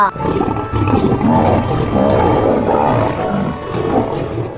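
A loud, rumbling lion roar fills the clip, deep and sustained with rough, growling texture throughout.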